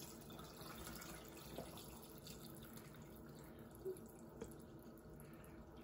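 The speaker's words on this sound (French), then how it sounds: "Donc là, on va ajouter l'eau." Water is poured into the mixing bowl of a Thermomix TM6 over blended vegetables, a soft, continuous trickle with a few light drips, quiet and with no voices.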